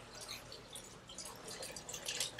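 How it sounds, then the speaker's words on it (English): Water trickles and drips from a water feature at a modern single-story home, a soft, steady splashing heard alone at low level. "Love this water feature here."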